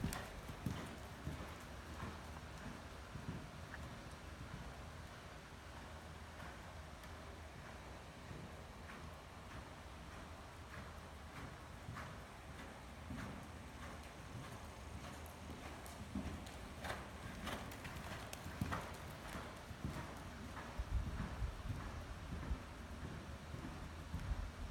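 A horse canters on the ground during a riding session, its hoofbeats a steady, faint rhythmic clip-clop against wind noise on the microphone.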